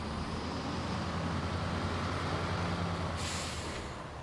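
A small truck's engine drones steadily and loudly in SnowRunner, on a muddy Russia map, with a brief hiss of air brake near the end.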